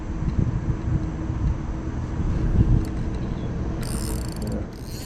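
Fishing reel clutch ratcheting at a riverside landing, a steady dense mechanical clicking that runs continuously at close range, with a brief brighter rattle near the end.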